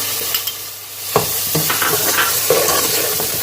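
Tomatoes sizzle steadily in hot oil in a pan with browned onions, with scattered clinks and scraping as they are stirred.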